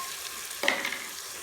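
Finely chopped tomato hits hot masala in a pan for aloo gosht. A faint background hiss jumps into a brighter, crackling sizzle with light stirring that keeps going steadily.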